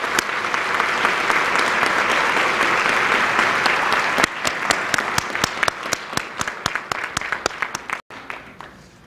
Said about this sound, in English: Please join me in another round of applause in appreciation of Spicer's service to the community.